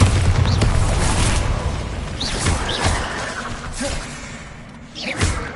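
Bombarda spell blasts in the Hogwarts Legacy video game: a string of loud thuds and booming impacts with whooshing bursts, fading slightly before a final sharp blast.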